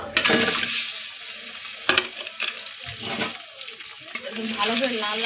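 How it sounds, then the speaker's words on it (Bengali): Eggs hit hot oil in a pan for a Bihari-style egg curry, setting off a loud, close, crackling sizzle that stays steady throughout, with a few sharper spatters and pops. "তেল ভালো করে গরম হয়ে গেছে বন্ধুরা এবারে এর মধ্যে ডিম দিয়ে দেবো"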